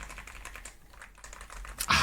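Rapid keystrokes on a YUNZII AL66 65% aluminum wireless mechanical keyboard with ABS keycaps, a steady close patter of thocky, slightly poppy clacks that ends in a louder burst of presses.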